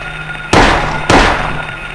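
Two loud, sharp gunshots ring out in the Silent Hill video game, evenly spaced about half a second apart, each with a brief decaying tail over a quiet game background.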